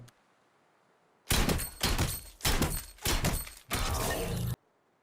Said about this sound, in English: Now I'm going to try it with an SMG/AR and see if the sound is any different.